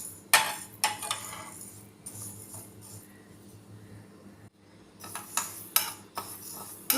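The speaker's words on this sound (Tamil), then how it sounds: "வெறும் பாசிப்பருப்பை வெறும் எண்ணெய் சட்டியில் வறுக்கணும்." Moong dal dry-roasted in an oil-free pan, heard as clinks and scraping taps of a utensil stirring against the pan in bursts with quieter gaps, close by and with no voices.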